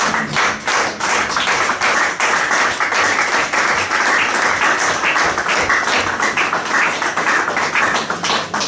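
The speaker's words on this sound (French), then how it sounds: "Est-ce qu'on peut applaudir la parole de Dieu?" Lively applause from a church congregation, close and loud with dense, uneven clapping that carries on steadily for several seconds.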